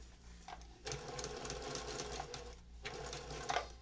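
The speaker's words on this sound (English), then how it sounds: "we're getting ready to sew our seam right here to join the beginning and end of the binding" Near and clear, a sewing machine stitches a seam joining the ends of quilt binding in a steady, rapid whir. A brief burst comes first, then a longer run, a short pause and another run.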